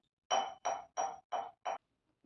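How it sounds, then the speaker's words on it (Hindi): A glass is tapped five times in a steady rhythm, each a bright ringing clink with a short decay, close and clear against silence. "देख कितनी देर से टन-टन-टन ग्लास को बजाई जा रही है"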